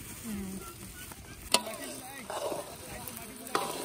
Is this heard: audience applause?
no